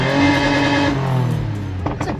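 A car engine holds a steady high-revving drone, then bounces off the rev limiter near the end, with choppy stuttering bursts as revs drop and catch again.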